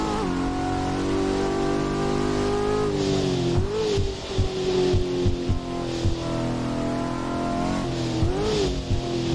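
Video-game Fiat Multipla tuned to 1300 hp, its engine droning and revving hard with pitch climbing and dipping between gear changes, loud and close, with a brief tire squeal and no talking.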